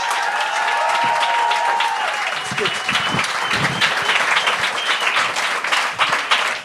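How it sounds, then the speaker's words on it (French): An audience at a televised talent show welcomes a comedian with loud, sustained applause and scattered cheers. A tone sounds at the start, and the clapping carries through to the end. "On accueille la première personne avec un tonnerre d'applaudissements."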